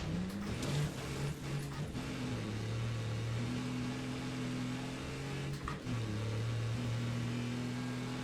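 A diesel car engine in the video game Wreckfest 2 hums and rises in pitch through several gear changes, revving up, dropping and climbing again, steady and fairly close.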